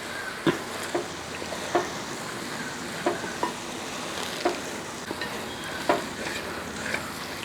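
Steady frying sizzle as chicken fries in a pan, with periodic scraping clicks of a spoon stirring, about a dozen knocks spread across the clip, no voices.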